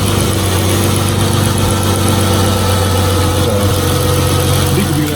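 A Dodge Challenger engine runs at a steady, loud idle right after a 180-degree Mishimoto thermostat install, with a constant low rumble and mechanical vibration throughout and no talking.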